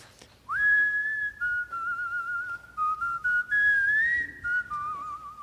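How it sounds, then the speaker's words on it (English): A man whistles aimlessly with no set melody, a wandering run of sustained tones sliding and stepping between pitches in short phrases with brief breaks, clear and fairly close over a quiet background. "You just whistled."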